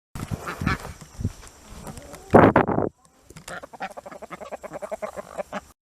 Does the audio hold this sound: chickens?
yes